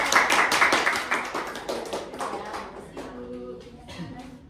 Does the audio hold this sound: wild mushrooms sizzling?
no